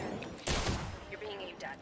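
Gunfire in the Apex Legends battle royale game arrives as one sharp loud burst followed by fainter shots and effects, while a player talks over it.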